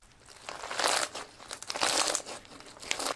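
Slime packed with holey perler beads crunches and crinkles in repeated bursts of squishing, with a couple of louder crunchy swells and short pops between them, close up and with no talking.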